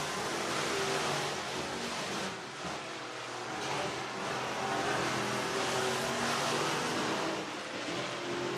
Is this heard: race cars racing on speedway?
yes